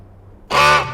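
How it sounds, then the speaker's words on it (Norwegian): A large male goose lets out one loud, close honk after a moment of near silence, the call sustained and slightly fading at its close. "For en svær gås du er"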